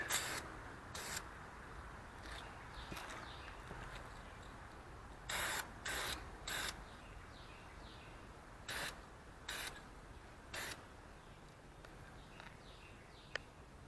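Blue paint is sprayed onto brake calipers in short, separate bursts: a couple near the start, then a cluster of quick hisses later on, with quiet pauses between them.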